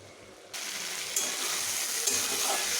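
Boiled soybeans and chickpeas are tossed into a hot pan and sautéed, and a faint background hiss jumps into a steady, airy sizzle that carries on evenly to the end.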